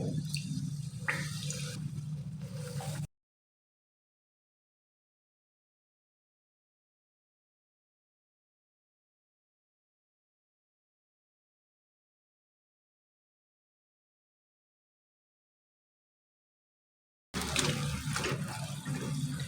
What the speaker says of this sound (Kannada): ಇವಾಗ ಎಣ್ಣೆ ಕಾದಿದೆ. ಇವಾಗ ಒಂದೊಂದೇ ಪೂರಿ ಹಾಕ್ಕೊಂಡು